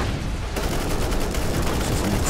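Dense, continuous volleys of auto gun fire rattle throughout a Warhammer 40,000: Inquisitor - Martyr battle, loud and layered with explosive booms and no voices.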